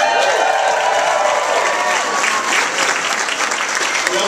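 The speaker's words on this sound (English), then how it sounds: "Gotta give a big round of applause to Jerry." An audience at a physics demonstration show at a fan convention claps steadily throughout, a dense, close round of applause with a faint voice or two underneath and scattered sharper claps near the end.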